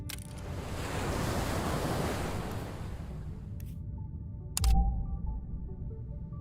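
Ocean water forming on tiles in the Terraformers planet-building game: a soft, steady wash of surf-like noise that fades out, followed by a brief clicking chime and a low thud before near silence.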